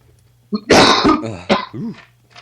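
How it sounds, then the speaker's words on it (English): A smoker's cough: a person coughs and clears their throat in a few harsh, raspy bursts up close, then a short hacking cough trails off into quiet. "Just have to get over my smoker's cough, everybody."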